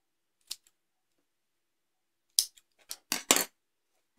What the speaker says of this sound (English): I'm going to trim them to match with the pom-pom